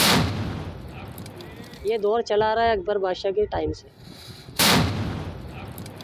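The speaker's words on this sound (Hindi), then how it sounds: "तोप चलने के बाद पूरे अजमेर शहर में रोज़ा खोला जाता है।" A ceremonial cannon salute at the Ajmer dargah, a tradition marking the breaking of the fast, booms loudly at the start and again near the end, with a person speaking between the two blasts.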